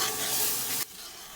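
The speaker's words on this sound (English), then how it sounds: "I'm gonna keep stirring until I get all the bottom" Cold liquid being stirred into a very hot roux, a loud, close hiss and sizzle that cuts off abruptly to a quieter bubbling simmer.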